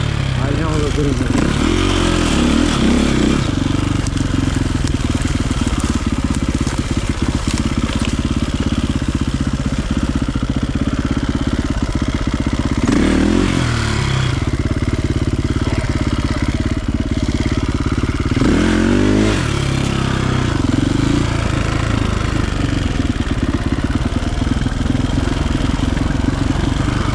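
An enduro motorcycle engine runs steadily throughout, loud and near, with a few brief revs and rattles; voices can be heard under the engine noise.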